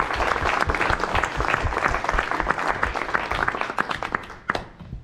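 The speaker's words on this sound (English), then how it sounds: "let's give them a round of applause." Audience applause at a graduation event, a dense, steady wash of many hands clapping that thins and tapers off toward the end, with no talk over it.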